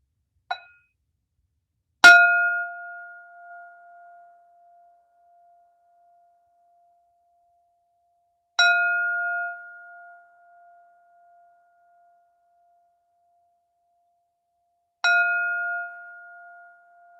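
A meditation bell struck four times at wide, unhurried intervals in near silence, the first tap faint and short, the next three clear, bright strikes each ringing out and decaying slowly.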